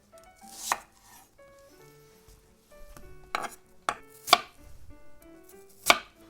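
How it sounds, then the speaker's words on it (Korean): A kitchen knife slices radish into thin flat squares on a cutting board, with several sharp, separated chops and quiet pauses between them. "무는 나박 썰기 해주세요. 무는요 두껍지 않게 얇게 썰어주세요."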